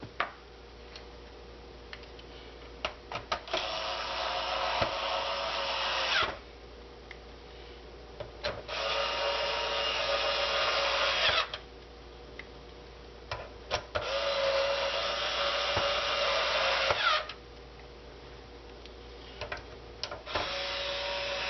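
A screwdriver drives the larger screws around a PlayStation 3 casing during reassembly, giving four long whirring bursts of several seconds each separated by short pauses, close by and steady, with small clicks and handling noises between them.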